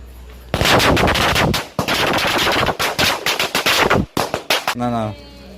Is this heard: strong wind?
no